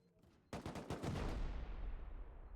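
Gunfire during a Rust 4v4 base-raid tournament: after a quiet moment, a sudden rapid burst of shots ends in a long, rumbling echo that fades slowly, sounding fairly distant.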